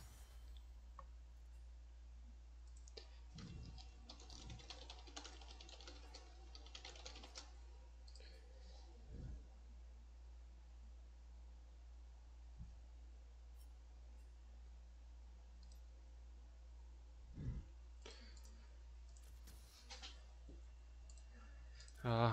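Quiet computer keyboard typing and clicking during a League of Legends game session, scattered soft keystrokes and mouse clicks spread through the stretch, faint and close, with a little background noise and no clear talk.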